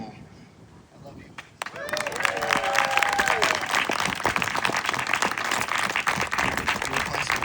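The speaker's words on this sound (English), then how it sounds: "please join me in raising a wonderful cheer to this storied career and this wonderful man" Audience applause and cheering at a retirement celebration for Christopher Campbell, a dense, loud wash of clapping and whoops that swells after a quiet start and holds steady, with voices mixed in.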